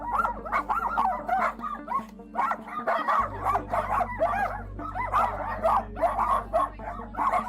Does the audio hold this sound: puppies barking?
yes